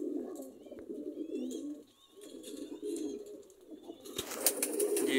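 Lakha high flyer pigeons cooing softly in a loft, repeated low rolling coos with brief pauses and some faint chirps, with rustling and clatter toward the end.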